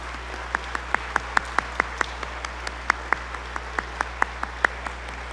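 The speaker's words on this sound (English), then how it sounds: "let's give them a round of applause" Sparse, evenly spaced claps ring out at a school spring choral concert, a small scattered group clapping over a low steady hum.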